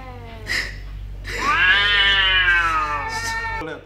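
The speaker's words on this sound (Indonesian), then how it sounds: "kenapa ya kucing berantem doang aja" Cats yowl and snarl at each other in a tense fight, a long drawn-out wail rising and holding, with short hisses and growls before and after.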